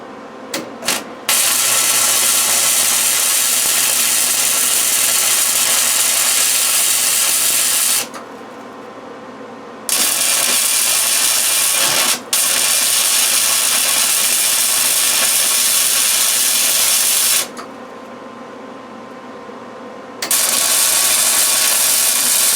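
Steel being arc welded for a homemade stud straightener tool, a loud, continuous crackling hiss in three long bursts separated by short pauses, close up with no talk.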